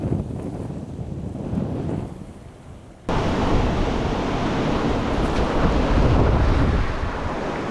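Wind and waves on the Irish coast while lure fishing for bass: steady blustery wind buffets the microphone over rushing surf, growing suddenly louder partway through and staying strong.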